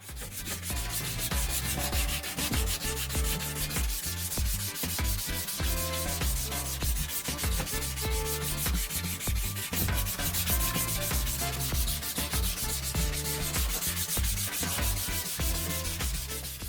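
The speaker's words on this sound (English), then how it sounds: "Switch to 1200 grit sandpaper. Spray water again and continue sanding." Wet sanding of a plastic car headlight lens by hand with water-sprayed 1200 grit sandpaper, a steady continuous rasping rub with a rhythmic back-and-forth texture, close and even in loudness throughout with no talking.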